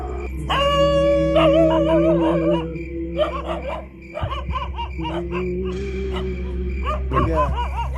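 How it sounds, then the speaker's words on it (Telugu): Several dogs howl and yelp together, with long wavering howls broken by short barks and whimpers. The sound is loud, close and continuous. "ఏందిరా కుక్కలు అక్క అరుతున్నాయి?"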